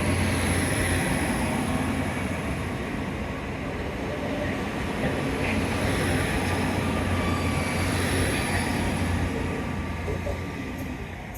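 Train pulling away from Newton Abbot toward Penzance, heard at moderate distance as a steady rolling rumble with thin wheel squeal on top, easing off toward the end.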